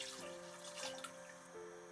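Water pours steadily into a cooking pot for Japanese beef curry, a soft, continuous splashing stream that stays quiet and even throughout.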